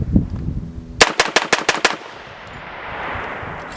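A CMMG Banshee MK10 chambered in 10mm fires six rapid, evenly spaced shots. The sharp reports are close and loud, and a long echoing tail trails off into outdoor ambience.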